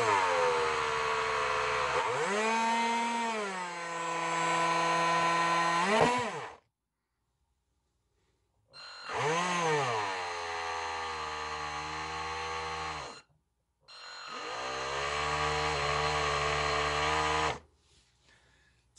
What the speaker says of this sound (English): this motor is way too big for this boat